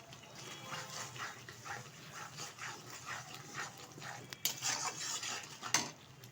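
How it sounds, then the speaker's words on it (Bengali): A spoon stirs spiced masala for a goat meat and potato curry in a pot, steady rhythmic scraping and soft clatter with a couple of sharper clinks near the end. "ভালোভাবে আবারও মিশিয়ে নিচ্ছি।"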